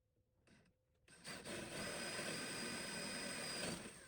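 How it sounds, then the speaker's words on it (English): Holes being drilled for the mounting bracket of a thermal expansion tank, a faint tap at first, then a sustained whirring, grinding drill run lasting several seconds. "Now just drill my holes."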